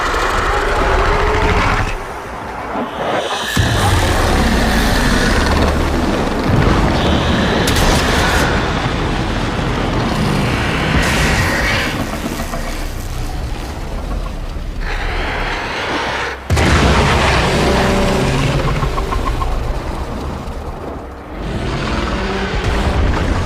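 An explosion in the video game Warframe erupts as a loud, dense roar that stays heavy and sustained for the whole stretch, with rumbling low end and brief dips before surging again.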